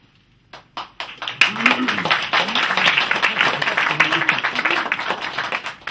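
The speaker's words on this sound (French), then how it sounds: "Ne m'applaudissez pas trop, parce que sinon je vais croire que j'ai raison." Applause from an audience at a political speech breaks out after a few isolated claps and continues as dense, steady clapping, with a voice speaking over it throughout.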